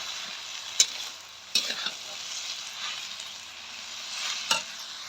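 Amaranth leaves being stirred in a pan, a steady soft sizzle of frying broken by a few sharp scraping clinks of the spoon against the metal, close and alone without any talk.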